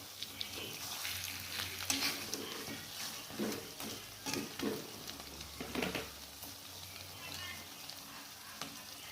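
Fish simmering in balado spice paste in a pan, a soft steady sizzle with light bubbling and occasional stirring scrapes, quiet and close, with no voices.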